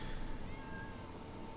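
A cat meows in Train Simulator 2016 on the Class 378 Stratford to Richmond route. The cry is faint and brief, with a few short calls over a quiet, steady background.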